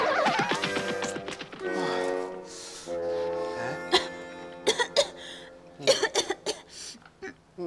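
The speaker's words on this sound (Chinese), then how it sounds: "妹妹，你怎么还一直在咳嗽啊？" A young girl coughs repeatedly in short, rough bursts, loud and close, with brief throat-clearing sounds between the coughs.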